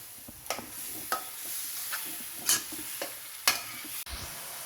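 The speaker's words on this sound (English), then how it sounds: "we have to mix it 6 to 8 minutes very well" Beef keema with bone being stirred in a pan, a spoon scraping in a series of short strokes about once a second over a steady faint sizzle of frying meat, with no talking.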